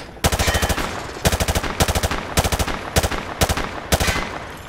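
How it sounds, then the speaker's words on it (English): Automatic gunfire in Call of Duty: Modern Warfare 2, a weapon sprayed at targets in loud, close bursts of rapid shots, about five separate volleys with short gaps between them. "He sprayed bullets all over the damn place."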